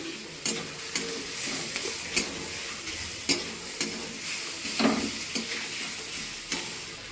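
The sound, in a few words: onion and tomato frying in a pan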